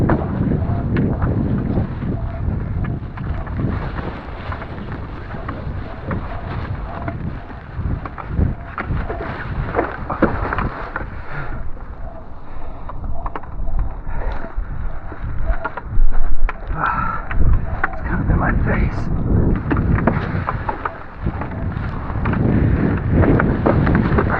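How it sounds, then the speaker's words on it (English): Gusty, chaotic wind buffeting the microphone while parawinging on water, a constant heavy rumbling roar with uneven surges and brief louder bursts, loud and close throughout, with no talking. "The wind's also a bit chaotic"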